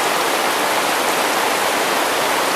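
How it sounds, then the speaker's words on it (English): A raging river swollen after heavy rain rushes past close by, producing a loud, dense, unbroken roar of churning water with no pauses. "there's this raging river rolling in front of you"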